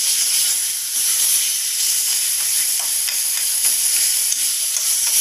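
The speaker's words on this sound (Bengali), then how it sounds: "এরপরে গ্যাসটাকে কম করে দেব এবং বিটটাকে এইভাবে খানিকক্ষণ আরও মোটামুটি 2-3 মিনিটের মতো এইভাবেই নেড়ে চেড়ে রান্না করে নেব" Grated beetroot fries in a pan over a low gas flame while being stirred, giving a steady, fairly loud bright hiss with soft scraping strokes and no voices.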